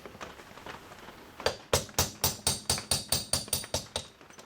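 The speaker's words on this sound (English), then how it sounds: "need a little bit smaller punch. Go with a little bit lighter hammer." A hammer taps a metal punch driving a pin on an AR-15 rifle, a quick, steady series of about a dozen sharp, ringing strikes, close up and evenly spaced.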